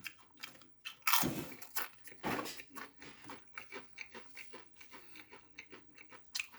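Pringles paprika potato chips crunch up close in loud, crisp bites, followed by a run of softer rhythmic chewing.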